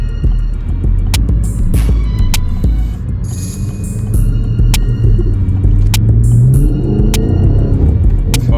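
A Chevrolet Camaro SS on worn tires rumbles loudly from inside the car, its deep engine note throbbing and then rising as it accelerates, with sharp clicks over the top.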